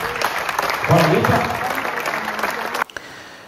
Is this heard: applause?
yes